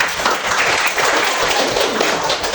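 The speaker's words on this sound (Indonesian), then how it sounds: "Baik, sekarang tepuk tangan untuk Jaki." Children in a classroom clap together in a dense, continuous burst that stays loud and steady for a few seconds, with no talking over it.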